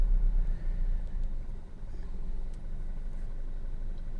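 2009 Audi TT 2.0L TFSI petrol S Line with an automatic gearbox fault, its engine droning steadily at low revs while driving, a close, even rumble with no speech.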